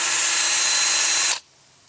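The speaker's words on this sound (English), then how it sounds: "You can turn your regular old drill into an electric mixer for paint or different types of projects that you're doing." Electric drill used as a paint mixer runs at a steady high-pitched whine for over a second, then cuts off abruptly, leaving faint low noise.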